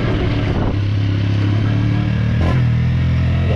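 A Honda CG 125 Titan motorcycle engine and exhaust rev continuously and loudly up close, the pitch dipping then rising again near the end, with no talking.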